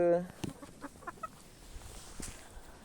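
Backyard hens of mixed breeds, including frizzled birds, clucking in a few short scattered calls, with brief bursts of other noise and faint talk in the background.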